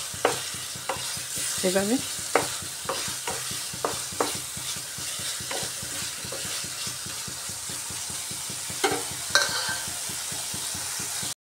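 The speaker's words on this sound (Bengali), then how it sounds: "টমেটোগুলোকে নরম করতে হবে না, একটু নাড়াচাড়া করে নিলেই হয়ে যাবে।" Chopped tomatoes stirred in a frying pan, a continuous sizzle broken by regular scraping strokes of the spatula, close and fairly loud, with a brief spoken word early on.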